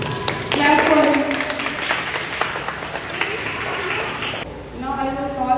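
A classroom audience of young students claps for a classmate after his short speech, a dense burst of hand claps lasting several seconds before tapering off, with a voice briefly audible near the end.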